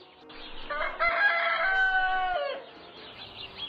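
A rooster lets out one clear, close cock-a-doodle-doo, a drawn-out crow of about two seconds over a quiet background.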